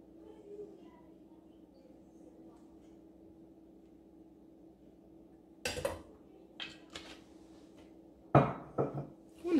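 After a steady low background hum, a utensil knocks and scrapes a few times against a pan as melted chocolate and oil are stirred together for a glaze, giving short, close clatters.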